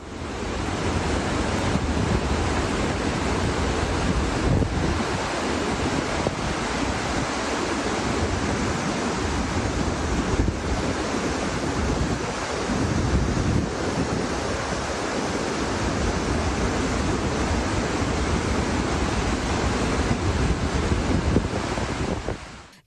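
The flooded Kaveri River, swollen by 10,000 cubic feet of released dam water, rushes over both banks. It makes a continuous loud roar of churning water mixed with heavy wind buffeting.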